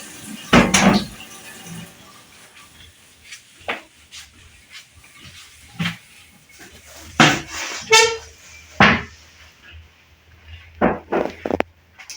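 A thermos flask for hot porridge is handled in a kitchen, giving a string of separate knocks, clinks and thuds of varying loudness with quiet gaps between them.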